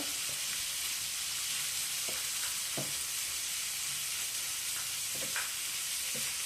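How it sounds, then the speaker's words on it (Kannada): Spiced egg mixture sizzling in a pan, a steady broadband frying hiss running throughout with a few faint clicks of stirring; no voices. "ಇದೊಂಚೂರು ಫ್ರೈ ಆಗಲಿ."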